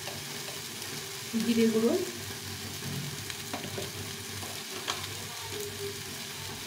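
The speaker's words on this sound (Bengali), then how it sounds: "এই সব দিয়ে আমি তরকারিটা একটু ভেজে নেব।" Pumpkin curry with turmeric, salt and spices sizzles and fries in a pan, a soft steady crackle with a brief louder stir near the start, while someone speaks over it.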